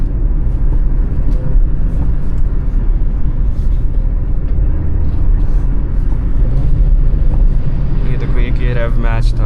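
A Hyundai Elite i20 climbs Shimla's twisting mountain roads with a rev-match downshift into second gear. A steady, loud engine and road rumble runs throughout with wind buffeting, and a brief rising rev swells near the end.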